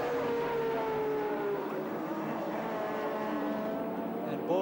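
Touring race car at Sandown in 1984 accelerating hard down the straight and up into fifth gear, its engine note rising steadily through the gear under continuous commentary.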